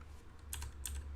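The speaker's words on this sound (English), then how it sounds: "I'm typing that right." Keys clack in two quick bursts on a computer keyboard during a live stream, close and fairly quiet over a low steady hum, with no talking.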